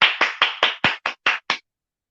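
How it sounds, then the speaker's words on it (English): Hands clap eight times in a quick, steady rhythm, sharp and close, then stop into silence, with no voices over them. "I got real claps."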